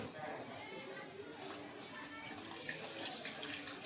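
Cold water is poured into a pot of fish head curry with a soft, steady splashing rush, heard under nearby talk.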